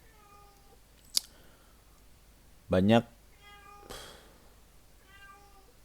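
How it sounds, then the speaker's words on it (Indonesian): A cat in heat meows in a drawn-out, wavering yowl, then a shorter call and further meows, close and fairly loud, with brief speech between them. "kucing gue lagi birahi."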